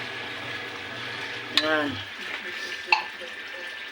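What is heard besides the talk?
water poured into pot of sardines and cabbage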